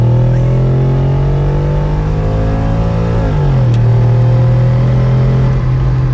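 An Audi S4 B7 estate's V8 revving loudly and steadily close by, the pitch holding high, then dropping as revs fall before settling into a deep sustained drone.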